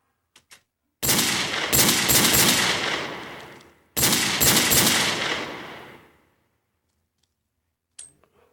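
Gunfire from a pistol in a Minecraft horror mod, two long bursts of rapid, loud shots close by, each lasting about two seconds before tapering off, with short clicks before and after.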